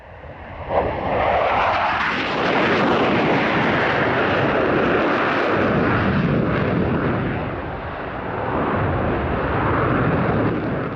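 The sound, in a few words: German Air Force F-4F Phantom jet at air show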